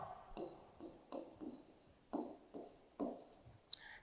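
Pen or pencil writing an answer in a school notebook, a series of short scratchy strokes close by in a quiet room, with a sharper tick near the end.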